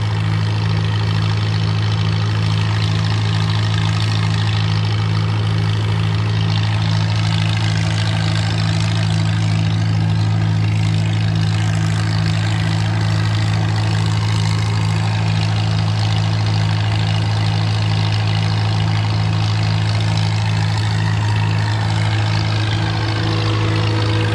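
A heavy engine idles steadily with a deep, constant low rumble and a faint mechanical hum, running unchanged throughout with no voices.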